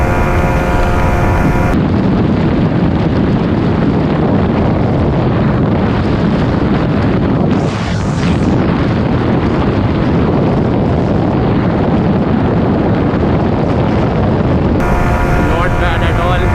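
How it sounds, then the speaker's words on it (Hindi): Heavy wind blast roars over a Yamaha MT15 150cc motorcycle ridden near 140, a loud continuous rushing buffet on the microphone throughout with a brief dip midway, no talk. "अब बढ़ेगा डिफरेंस क्योंकि अब बढ़ रहा है विंड ब्लास्ट।"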